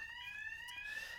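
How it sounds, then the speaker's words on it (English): A fire alarm under test in a lecture setting sounds a steady, faint electronic tone with several sustained harmonic lines, continuous and unbroken, with no voices. "There's our fire alarms being tested"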